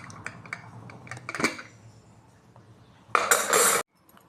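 A pressure cooker lid being opened after the cooker has cooled: a few metallic clicks and clinks, then a loud hissing burst lasting under a second, close by.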